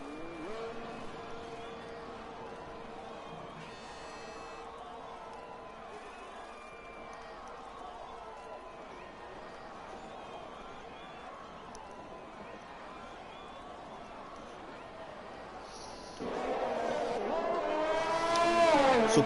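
An F1 car on a sighter lap at the Canadian circuit in a racing game, running on medium tyres: a steady engine whine lasts throughout under commentary, then swells louder and higher near the end as revs climb.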